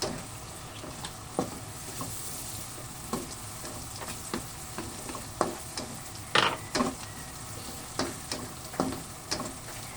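Onion and garlic sizzle and fry in a pan with oyster sauce, a steady close crackle broken by repeated scraping stirs at an irregular rhythm, with no voices.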